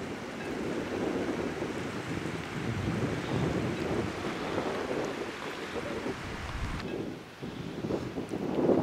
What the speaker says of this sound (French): En plein vent.